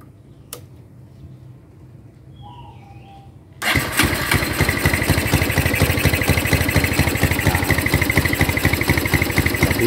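A cold Honda Tiger motorcycle with a carburetor engine is started after sitting overnight, catching abruptly after a quiet moment and settling into a loud, steady, close idle with a rapid even thump.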